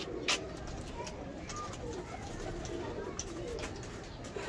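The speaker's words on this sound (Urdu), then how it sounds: "تو یہ گولڈن کبوتر۔" Golden pigeons of a distinct breed cooing softly in a loft, the low steady coos continuing over a busy background hum with a faint voice briefly audible.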